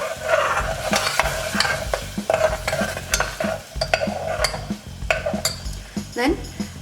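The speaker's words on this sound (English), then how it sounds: "after HING, let's put the mixed puree." Mixed puree for one-pot matar paneer sizzles in hot oil after hing and is stirred, with close, repeated spoon scrapes and clatter against the pot over a constant frying hiss.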